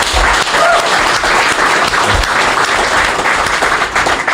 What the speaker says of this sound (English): a big round of applause, please, for JP